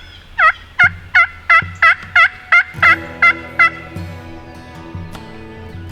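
Wild turkeys gobbling in a field during a Kansas spring hunt: a rapid series of about ten loud, close gobbles, one after another, followed by a fainter low hum of the open field.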